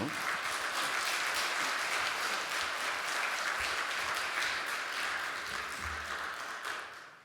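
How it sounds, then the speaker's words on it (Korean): A church congregation at a special early-morning prayer service breaks into sustained, dense applause that stays full and even before tapering slightly at the end. "우리 하나님께 영광의 박수를 보내는 거니까 기쁨으로"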